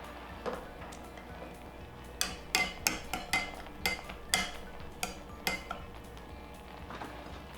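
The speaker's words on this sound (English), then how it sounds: "So I'm just gonna help them along with a potato masher." A potato masher presses burst tomatoes in a pot, producing a string of quiet metallic clinks and knocks at an irregular, fairly quick rhythm against a soft background, with no talk.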